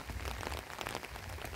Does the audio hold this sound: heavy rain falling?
yes